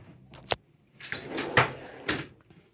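A drawer on a Snap-on or Bluepoint service cart slides open and shut, giving several close, sharp metallic clunks and sliding rumbles in quick succession.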